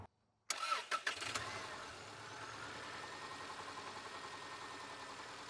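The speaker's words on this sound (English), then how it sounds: "So that's what the sporadic knocking noise in the engine is." A Subaru Outback engine cranks and catches after a moment of silence, then settles into a steady, close idle with no talk; any sporadic knocking from a chattering lifter stays buried in the running noise.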